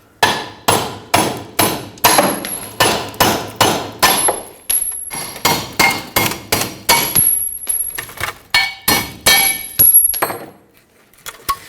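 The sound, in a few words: hammering out wheel studs on Ford F-350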